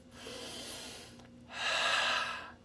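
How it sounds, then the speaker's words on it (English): Two slow, mindful breaths follow each other at close range, a softer inhale and then a fuller, louder exhale, with no talking. "take some mindful breaths in and out right now"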